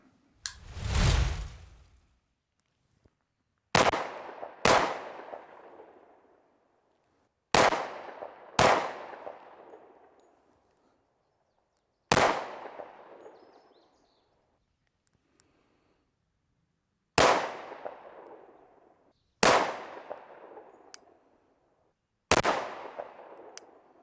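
Ten sharp, loud reports from a 10mm pistol firing full-power Berry's 200 grain flat point practice loads, shot singly and in quick pairs with pauses between, each crack trailing off in a short echo.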